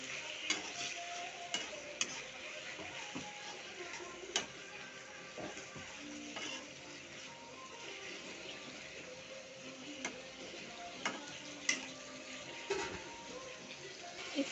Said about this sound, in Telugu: ఇది ఫ్రై అయ్యేటప్పుడు కొంచెం కరివేపాకు వేసుకొని ఫ్రై చేసుకోవాలి